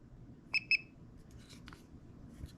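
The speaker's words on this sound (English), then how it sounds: "you hear it beep and turn red" Two quick electronic beeps from a voltage tester inserted into an electrical outlet sound close together, followed by faint tapping and handling noises in a quiet room.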